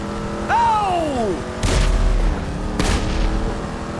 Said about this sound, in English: What were those gunshots?